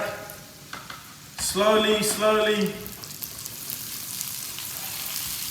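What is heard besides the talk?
meatballs sizzling in garlic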